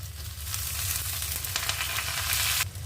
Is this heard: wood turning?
no